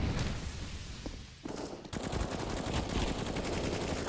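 Dense bursts of automatic rifle fire crack and rattle during a bomb site retake in Counter-Strike, loud and close, with a brief lull before the shooting picks up again.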